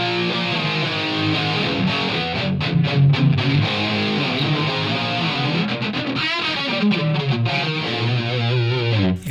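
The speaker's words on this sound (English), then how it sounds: "But that's the distortion sound." A heavily distorted electric guitar plays a continuous crunchy riff, thick and saturated, with chords shifting throughout and no voices.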